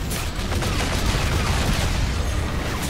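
Dense gunfire rattles without pause through a video game shootout, a loud, continuous barrage of overlapping shots filling the whole stretch.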